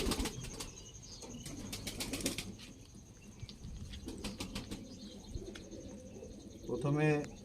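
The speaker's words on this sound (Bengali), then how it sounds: "প্রথমে আপনাদেরকে দেখাবো মাদি পায়রাটা।" A female Sylheti Kamakgar pigeon is close by, with bursts of flapping wings and soft cooing, and faint voices in the background.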